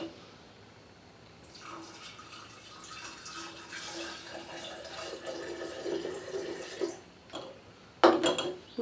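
Pina colada moonshine mixture pours into quart jars in a steady, fairly close liquid stream lasting several seconds, followed by a few brief clinks and splashes at the end.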